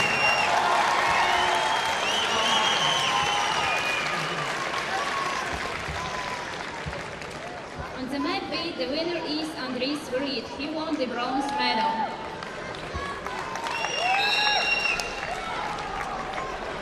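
Audience applauds at a wrestling medal ceremony, with sustained clapping from a large hall crowd while an announcer speaks over it through a PA.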